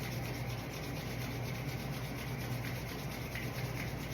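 Hands rub together vigorously in a yoga class, a loud, steady, dry friction sound that runs without a break and with no talk over it.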